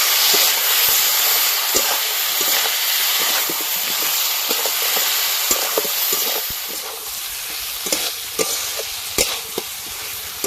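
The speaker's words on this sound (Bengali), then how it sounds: "জিরে বাটা, সব কিছু মশলা আলুর সঙ্গে খুব ভালো করে কষে নেব।" Potatoes fry in a pan with cumin paste, Kashmiri chilli powder and other spices, giving a loud, steady sizzle and hiss close up, broken by repeated scraping clicks of a spoon stirring; no talking.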